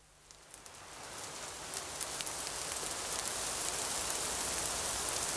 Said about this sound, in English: This tropical rain, it comes down so suddenly.